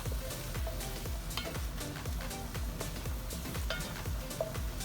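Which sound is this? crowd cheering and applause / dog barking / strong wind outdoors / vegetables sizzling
vegetables sizzling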